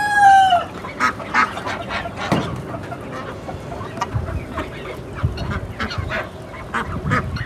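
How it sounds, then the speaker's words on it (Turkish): Geese and ducks squabble over scattered feed in a mixed poultry yard, their honks, quacks and clucks overlapping in a steady, busy chorus with a few louder calls standing out close by. "Kazlarla ördekler arasında da ufak ufak bir savaş var."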